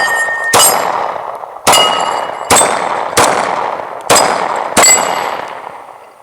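Six sharp, evenly spaced shots from a Dan Wesson Fury Elite 10mm 1911 pistol, each a crisp loud crack with a short ringing tail, fired outdoors at a steady pace with no talking.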